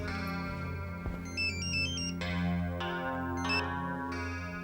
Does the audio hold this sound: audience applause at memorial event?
no